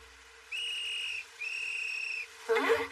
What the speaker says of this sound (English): If I recall, that whistle means...